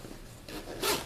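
A single short zipper pull on a bag, a brief rasping zip close by that brightens and rises near the end, with no talking.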